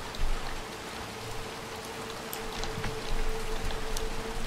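Steady rain falling outdoors in the Little Nightmares II video game, a dense continuous patter with scattered louder drops, constant and close throughout, no voices.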